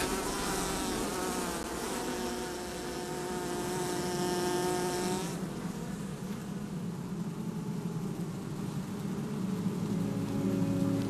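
A honey bee colony buzzing in a hive inside a hollow fruit tree, a dense continuous drone with many overlapping wingbeats, fairly close, with a brighter whine early on before settling into a steady hum.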